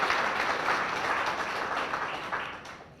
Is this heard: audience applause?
yes